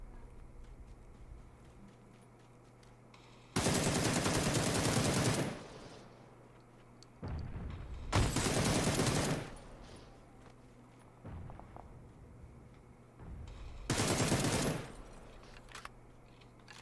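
Three loud bursts of automatic gunfire in a video game, each lasting a second or two and separated by quieter stretches with scattered footsteps and faint shots.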